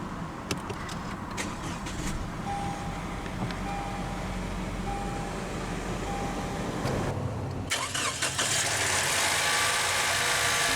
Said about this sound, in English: let's go ahead and start the engine